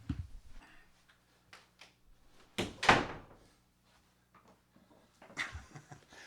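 An apartment door is pushed shut, a soft thunk and latch click amid quiet scattered taps and knocks, with one louder sweeping rustle in the middle.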